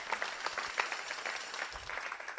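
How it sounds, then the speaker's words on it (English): Audience applauding presenters at a company meeting, a steady patter of many hands clapping at moderate volume throughout, with no voices over it. "If we could just have one round of applause for them"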